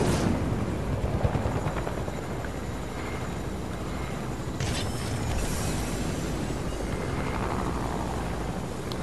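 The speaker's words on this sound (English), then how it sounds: "Oh, there's a helicopter over there." A helicopter flies steadily in a multiplayer shooter video game. Its broad whirring rotor drone runs continuously at moderate loudness, with a brief surge partway through and no voices.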